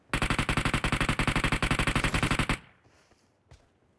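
Rapid automatic gunfire in a video game, a loud sustained burst of evenly spaced shots for about two and a half seconds, then stopping, followed by a single faint thud.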